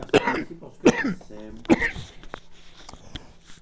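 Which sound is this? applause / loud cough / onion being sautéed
loud cough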